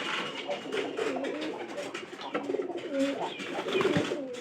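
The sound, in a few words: pigeons cooing in a loft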